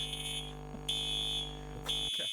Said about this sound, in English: ignoring a fire alarm is crazy